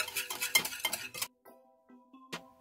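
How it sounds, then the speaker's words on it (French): A spoon scrapes and clinks rapidly around a metal saucepan for about a second while stirring a mixture with gelatine, then a few faint tonal rings follow with one last clink. "et je mélange"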